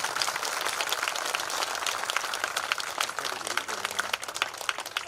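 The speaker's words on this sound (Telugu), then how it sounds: "Claps please, claps." An audience at a dance academy's dance drama performance claps for the children, a dense, continuous patter of many hands at moderate distance that carries on for several seconds.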